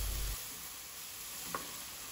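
Curried meat filling fries in a wok, a steady close sizzle throughout after a short low thump at the start, with one faint clink of stirring midway and no speech.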